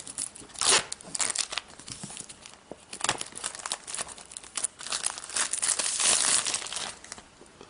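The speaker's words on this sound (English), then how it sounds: "All right, let's just get this plastic off." Plastic shrink wrap crinkles and tears as it is peeled off an iPhone 4S box, a close series of irregular crackling bursts that swell louder toward the end, with no talking.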